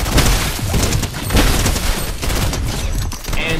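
Sustained rapid gunfire during a boss fight in the video game Fortnite, loud and continuous with overlapping shots and blasts throughout, no talk over it.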